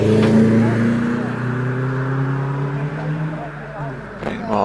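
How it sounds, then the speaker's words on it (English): A Renault Twingo 133 rally car pulls away up a hillclimb course, its engine note climbing steadily through the gears, loud and close, with a commentator's voice running over it. "On the line we have the Renault Twingo 133 of Tim Cross"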